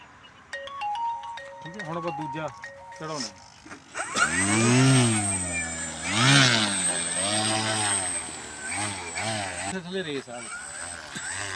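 A remote-controlled model airplane's electric motor and propeller, rising and falling in pitch as it passes nearby with whining, buzzing sweeps, loud at times, mixed with people talking and some beeping at the start.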